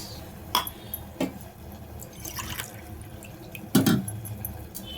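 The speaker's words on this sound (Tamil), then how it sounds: "இது வந்து இஞ்சி பூண்டு தண்ணி," Ginger garlic water poured into a pot of mushroom biryani, heard as a few brief splashes and drips against a quiet kitchen background, with no talking.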